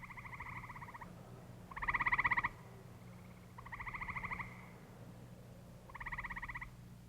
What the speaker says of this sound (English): Another woodland creature awakens to the spring, a gray tree frog.